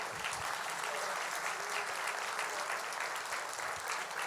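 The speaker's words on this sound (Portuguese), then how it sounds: "Podemos dar um aplauso de gratidão ao Senhor?" A church congregation claps in gratitude during a Portuguese-language sermon, a dense, sustained burst of applause from many hands, fairly faint and distant.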